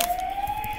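A video game siren creature's steady electronic-sounding wail holds one high pitch throughout, close and fairly loud, with a low rumbling background beneath it.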